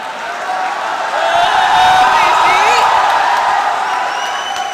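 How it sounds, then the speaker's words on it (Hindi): An audience at a Hindi poetry reading claps steadily with scattered whoops and cheers, a dense, sustained crowd sound that swells in the middle and carries a faint voice over it. "आगे के बढ़िया श्रोता अच्छा ताली बजा रहे हैं, आप भी बजा रहे हैं।"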